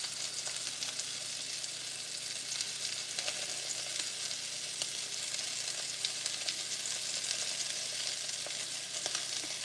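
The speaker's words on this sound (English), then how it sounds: "Searing, charring, charring the corn, searing the steak." Steak searing alongside corn charring in a hot pan, a loud, dense, continuous sizzle and crackle close by, steady throughout with occasional sharper pops and no speech.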